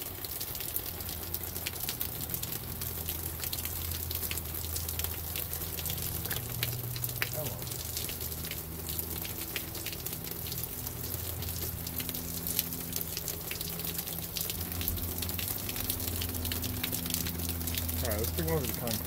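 Water runs steadily from a faucet while a pet squirrel is given a shower, a continuous hiss and splash lasting throughout with low hum underneath.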